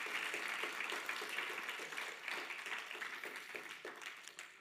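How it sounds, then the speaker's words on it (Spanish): A church congregation applauds in a dense, steady burst of clapping that fades slightly toward the end, heard from within the room with no speech. "Dele fuertes aplausos al Señor."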